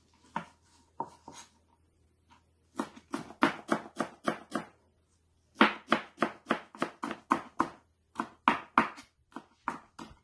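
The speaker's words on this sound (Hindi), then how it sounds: "आप सब्ज धनिया को बारीक बारीक चॉप करके इस्तेमाल कर सकती है" A knife finely chops fresh parsley or coriander on a board for a Korean beef sauce spaghetti: a few scattered taps, then quick, steady runs of crisp, close chopping strikes with short pauses between.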